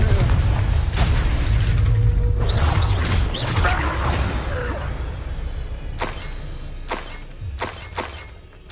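Confringo explosive spell going off in Hogwarts Legacy, a loud booming blast with shattering, crashing debris, followed by several sharp smaller cracks and impacts as the noise fades.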